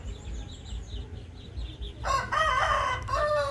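A Burmese-breed rooster crows loudly and close at a chicken-rearing yard, a long warbling call rising out of quieter farmyard background noise, with no talk.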